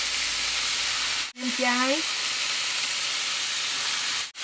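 Vegetarian porridge ingredients stir-fried in a pan with salt and pepper give a steady, close frying hiss throughout, broken by two brief dropouts, with a short spoken phrase near the start.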